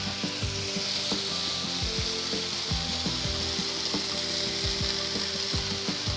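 Dalia roasted with spices in a pan, heard up close as a steady bright sizzle under repeated scraping and stirring knocks of a spoon.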